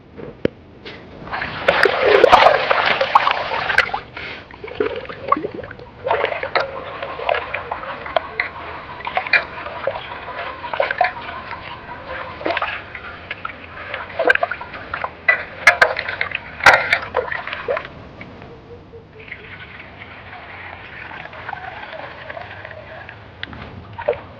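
Rice being washed by hand in a village pond: intermittent close water splashes and sloshing in uneven bursts, with quieter dripping and handling sounds between them.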